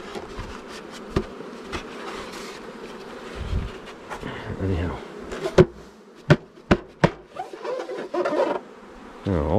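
Honey bees buzz in and around a beehive feeder, a steady close hum broken by sharp knocks and clicks of handling, with a brief spoken word.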